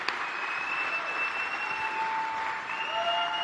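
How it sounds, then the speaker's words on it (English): An audience at a Trump rally in Juneau, Wisconsin claps in sustained applause, a dense wash of hand claps from a large crowd, with a steady high whistle-like tone running through it. "Let's give him a round of applause."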